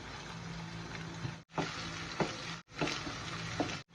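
Ground beef with onion and garlic sizzles steadily in a pan. The stirring comes in bursts of about a second, each cut off by short near-silent breaks, with scrapes and clatters over the constant frying hiss.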